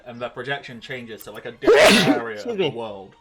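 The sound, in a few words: sneeze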